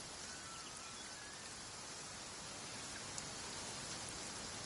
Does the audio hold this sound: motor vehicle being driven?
no